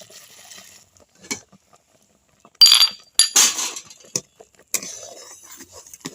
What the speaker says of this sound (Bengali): এবার এইভাবে খুন্তিটা নাড়তে থাকবো, না হলে তলায় লেগে যাবে